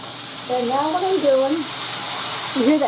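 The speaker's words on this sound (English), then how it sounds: "And now what I'm doing, you hear that sizzling?" A steady sizzle of chicken fried steak frying in a hot pan runs throughout, with a voice speaking over it.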